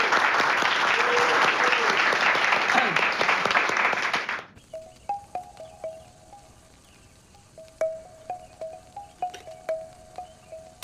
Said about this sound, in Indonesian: Tepuk tangan buat Babin kita.